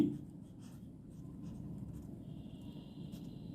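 A pen scratches quietly across paper while a third-grade fractions problem is written out, a soft, continuous scrawl with faint strokes close by.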